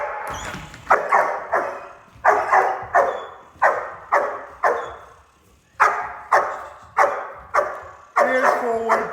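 A German Shepherd puppy barks on command in a string of sharp, evenly spaced single barks, loud and near, with short pauses between them.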